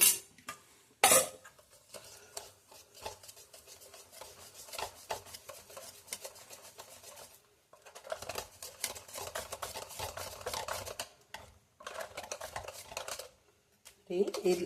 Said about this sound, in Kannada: ಎರಡು ಸ್ಪೂನ್ ನೀರು ಹಾಕ್ಕೊಂಡು ಅದೆಲ್ಲ ಮಿಕ್ಸ್ ಮಾಡಿ ಹಾಕ್ಕೊತಾ ಇದ್ದೀನಿ